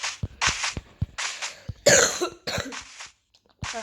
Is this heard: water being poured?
no